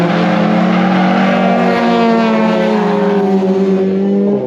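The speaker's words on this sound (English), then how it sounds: "we like the kind of big turbo bouncing off the limiter stuff" High-powered turbocharged JDM drift cars at a Scottish drift track, engine screaming loud and close, holding a sustained high-rev drone as it bounces off the rev limiter, with no voices.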